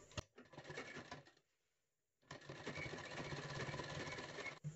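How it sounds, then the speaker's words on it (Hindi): A sewing machine stitches strips of fabric together for a double frill tassel: a close, steady mechanical whirr that stops briefly for about a second, then resumes running evenly. "इस तरह बिल्कुल बराबर से इसको मिलाते हुए इस पर सिलाइयां लगा देना है।"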